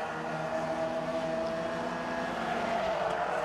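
Mazda MX-5 race cars in the 2015 BRSCC SuperCup at Oulton Park, turning into Knickerbrook Corner: a steady, fairly distant engine drone with overlapping tones, fairly quiet, with no voices.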